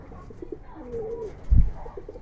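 A Giribaz pigeon coos in soft, low repeated calls close by, while a short thump lands midway and a faint voice murmurs in the background.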